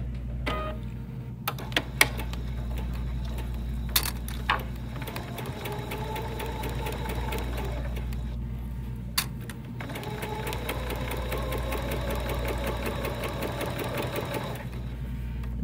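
A sewing machine runs a quarter-inch seam, its rapid steady stitching hum broken by short pauses and a few sharp clicks, heard close and alone.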